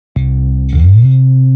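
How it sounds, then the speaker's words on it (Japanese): Bass slide noise from the IK Multimedia MODO BASS software instrument: a loud synthesized bass note with a gritty, scraping slide partway through, settling into a sustained lower tone. "プレイスタイルのところのスライドノイズですね"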